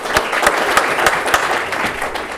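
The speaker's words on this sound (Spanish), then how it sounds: "le dar un fuerte aplauso para el arquitecto Juan Pablo Alarcón." Loud conference audience applause for an architect, a close burst of many hands clapping with a few sharper individual claps standing out, steady throughout with no speech.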